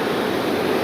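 Creek water rushes steadily past a grist mill dam after heavy rain, a loud, unbroken broadband roar with no voices.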